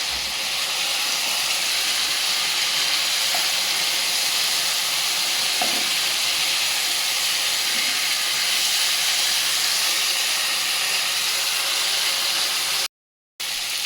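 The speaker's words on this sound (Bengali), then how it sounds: "ভাজা বড়িগুলো দিয়ে এখন একটু কষাই নিব আমি ভালো করে" Fried lentil dumplings and potatoes sauté in a hot pan with a loud, steady, even sizzle. It continues unbroken until a sudden cut near the end.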